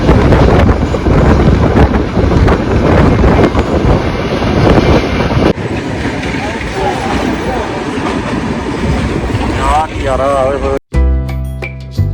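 A passenger train rumbles along between Hazur Sahib, Nanded and Nanak Jhira, a loud, steady rolling clatter with heavy wind buffeting close to the microphone, cut off abruptly near the end by a brief burst of music.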